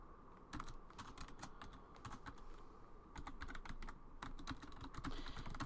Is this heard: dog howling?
no